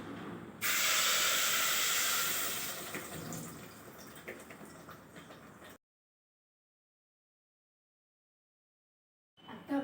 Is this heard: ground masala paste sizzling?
yes